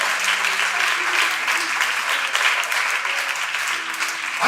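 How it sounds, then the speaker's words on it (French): A church congregation claps in a sustained burst of applause, dense and continuous, with a voice faintly audible beneath. "Applaudissez, applaudissez, applaudissez."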